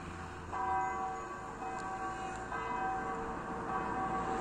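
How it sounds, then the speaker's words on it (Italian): Church bells ring in the distance, their tones overlapping and lingering, struck at a slow, steady pace. "Il suono delle campane."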